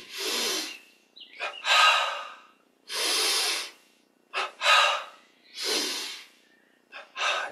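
Forceful breathing during a Yogoda energization exercise: three strong, rushing inhalations, each followed by a sharper, broken exhale, in a steady repeating rhythm, close and clear with no talk.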